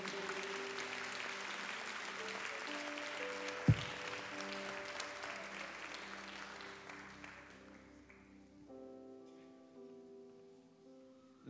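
Church congregation applauding, steady clapping from a crowd at moderate distance that gradually thins and fades, with sustained musical tones underneath.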